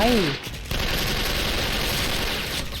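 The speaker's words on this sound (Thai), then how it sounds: "โดนตรงนู้นยิง" Rapid automatic gunfire in the online shooter Special Force, a dense continuous burst of shots after a brief opening tone, fairly loud and steady throughout.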